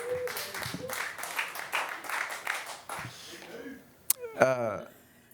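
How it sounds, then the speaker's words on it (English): Audience applause at a live comedy show, a dense burst of clapping filling the room for a few seconds before fading out, followed by a short sharp knock and a brief voice. "Everybody give Dave a round of applause, my camera guy."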